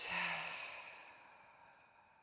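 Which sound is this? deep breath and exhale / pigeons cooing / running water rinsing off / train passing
deep breath and exhale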